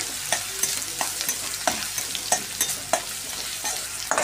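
Ginger garlic paste fries in hot oil in a pan for paneer 65, a steady soft sizzle punctuated by repeated sharp scraping strokes of a spoon stirring the mixture.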